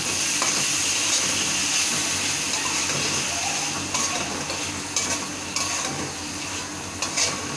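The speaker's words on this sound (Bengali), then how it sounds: "চিংড়ি মাছটা দিয়ে দেবো, একটু কষা কষা দেবেন" Shrimp frying and being sautéed in a pan with salt, a steady loud sizzle broken by stirring scrapes and utensil clinks against the pan, with no talking.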